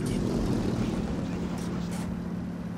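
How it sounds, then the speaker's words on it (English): Enemy plane engine in a tank video game: a steady, loud low drone with a propeller-like hum running continuously, while voices talk over it. "Enemy plane."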